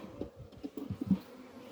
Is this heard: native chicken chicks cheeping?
no